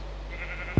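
In a jungle-park video game, a sheep gives one brief bleat as a tiger eats it, heard near and sudden over a steady low background hum.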